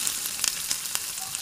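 Cumin and chili powder fry in a pan while a catla fish curry is being made, giving a steady close sizzle with crackling pops and faint stirring.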